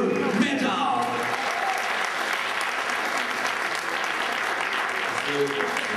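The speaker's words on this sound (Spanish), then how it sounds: "Pues fuerte el aplauso nuevamente a los militares de la Ciudad de México" Steady crowd applause at the Kalani awards ceremony for a power metal band winning its category, a thick continuous wash of clapping with faint voices mixed in.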